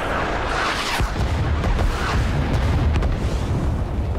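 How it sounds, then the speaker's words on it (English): Rising Storm 2: Vietnam artillery barrage in a video game, a dense, continuous roar of overlapping booms and explosions that stays loud and close from start to finish, with sharper blasts punching through the rumble. "That was a hell of a barrage."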